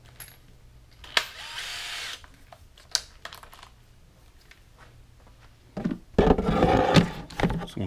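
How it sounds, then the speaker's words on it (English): Intermittent bursts of a step drill bit biting into a plastic Igloo cooler, short grinding spurts separated by pauses, ending in a louder, longer drilling stretch. "I'm just going to take my step bit, and I'm going to drill through the same spot"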